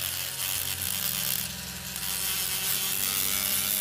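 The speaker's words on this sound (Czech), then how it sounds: "tady je to takový brusný vějíř" Steady whirring grind of a power sanding flap wheel working on wood, continuous and close, with a constant motor hum throughout.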